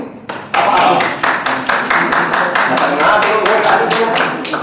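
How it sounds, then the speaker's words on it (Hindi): Rhythmic hand clapping, sharp repeated claps at a steady beat, loud and close, with voices mixed underneath. "आपकी बात पे ताली बजा रहे हैं"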